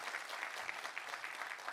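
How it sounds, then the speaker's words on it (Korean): A church congregation gives encouraging applause to a worship-team singer during a Sunday service, an even patter of clapping heard faintly from a distance and lasting the whole moment. "함께 한번 격려의 박수 부탁합니다"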